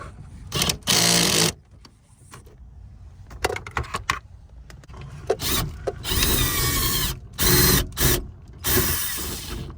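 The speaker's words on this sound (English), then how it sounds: "We're gonna go ahead and screw them in." Bolts are driven in to fit an AC compressor bypass plate on a 1995 Camaro, with loud, close bursts of ratcheting and mechanical whirring that start and stop in uneven stretches between brief quiet gaps.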